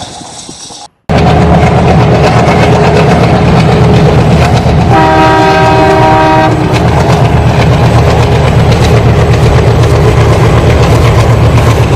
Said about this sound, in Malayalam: ബാക്കിലൂടെ ട്രെയിൻ പോണണ്ട